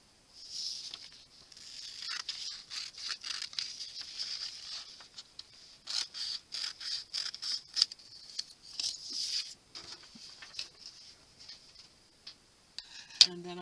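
Scissors snip out a 2.5-inch square of fabric for a quilt, giving a close, quiet series of crisp cutting clicks in short irregular runs, ending with a small handling knock.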